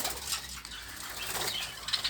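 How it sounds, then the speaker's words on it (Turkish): Young pigeons flap their wings inside a crowded loft, producing brisk fluttering bursts close by over a low background hum, with no talking. "Salmamız kuş doldu görüyorsunuz."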